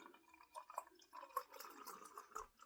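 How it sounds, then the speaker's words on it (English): IPA beer is poured into a chilled tulip glass, giving faint liquid trickling and splashing with small bubbling pops and drips, quiet and close, with no talking. "And so I have this chilled tulip that I'll be pouring this into."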